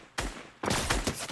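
Gunfire from Fortnite, played in the Reboot Van mode, comes as two bursts of rapid shots, the first short and the second longer and denser, crackling fairly loud with no talk over it.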